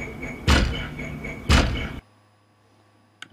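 Two heavy car door slams from a track, each a loud sharp thud followed by a short rumbling tail, about a second apart, then near silence and a faint click at the end.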